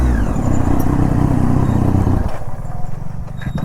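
A Triumph Daytona 675 motorcycle engine revs hard and close, a loud raspy roar that drops back to a rough, lumpy idle partway through.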